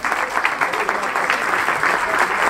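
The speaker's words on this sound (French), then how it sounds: "Vous pouvez l'applaudir aussi" A crowd at a mountain-bike endurance event in Normandy applauds, a dense, lively patter of clapping that stays strong and continuous through the short stretch, with a voice faintly underneath.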